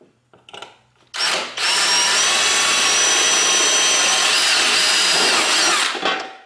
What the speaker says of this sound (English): you can actually just drill it over a block like this